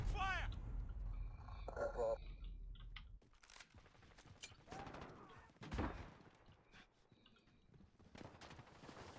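Gunfire in a video game, with bursts of shots and impacts scattered through the stretch, mixed with game sounds and someone speaking over it.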